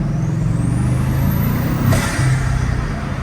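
A Bugatti Chiron's engine and turbo spool down beside a wall, a loud deep rumble with a rising high whistle that peaks and then falls away, the sound ringing off the nearby surface.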